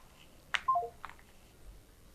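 Several short electronic dial tones from a telephone keypad sound close and clear in a quiet room, a quick burst of beeps followed by a couple more separate tones, with no talk.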